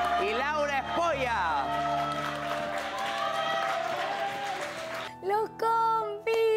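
Studio audience applause and cheering on a televised celebrity cooking competition finale, loud sustained clapping under a bright music bed, with a voice speaking over it near the end.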